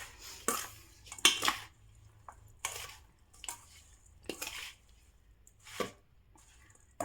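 Carrot, radish and green chili pickle is tossed with raw mustard oil, producing a series of close, intermittent wet scrapes and clacks of a utensil against the container, with quiet pauses between strokes.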